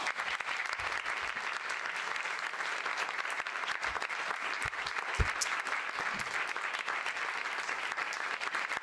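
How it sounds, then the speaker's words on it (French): Audience applause for a documentary director at an event about Maria Callas, a dense, steady wash of many hands clapping at moderate volume throughout, with scattered louder claps and no talk. "Je vous demande un tonnerre d'applaudissements"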